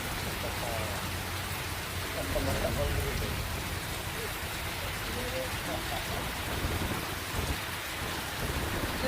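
Heavy overnight monsoon rain over Mangrol in Junagadh district, Gujarat, a dense steady roar of downpour with low rumbling underneath, holding a constant loud level throughout with no clear pauses.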